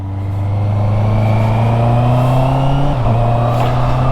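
A Honda CB650 E-Clutch motorcycle pulls away in third gear, its engine note droning steadily and rising slowly in pitch before a brief dip and wobble near the end, close and continuous.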